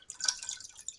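A Moccamaster Select coffee brewer drips and trickles as 550 ml of water starts flowing through the grounds: a soft, steady patter of drips close by, faint and continuous with no voices.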